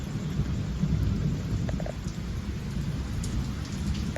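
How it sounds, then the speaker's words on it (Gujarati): Heavy rain pours steadily with a deep, rolling rumble of thunder beneath it, no voices. "તમે જુઓ, વરસાદ બહુ સારો પડી ગયો"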